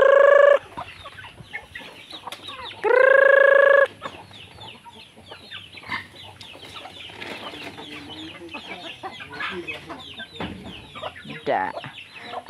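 Chickens cluck nearby on a farm, with a rooster's long crow near the start and again a few seconds later, alongside scattered soft clucks.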